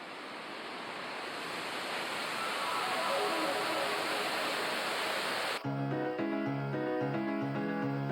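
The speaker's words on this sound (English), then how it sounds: "As I come closer to the edge, I can actually hear the waterfalls." Niagara Falls roars as a steady, broad rushing wash of falling water heard from near the edge, loud and constant, until music abruptly cuts in over it for the final seconds.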